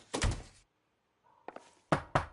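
Knocking on an apartment door in the video game L.A. Noire: a quick pair of knocks, a pause, then two or three more firm raps. The knocks are close and loud against a quiet background.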